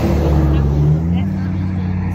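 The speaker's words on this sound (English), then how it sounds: "Our old elementary bus just passed by." An elementary school bus drives past on a cold street, its low engine rumble and road noise swelling close by and then easing away, with voices faintly underneath.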